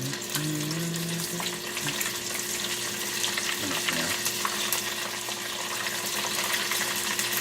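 Tortilla strips frying in hot oil, giving a steady, close sizzle and bubbling hiss that runs unbroken throughout, with a faint tonal hum beneath.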